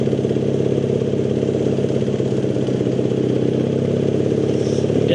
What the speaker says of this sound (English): You can see all the police motorbikes screaming past him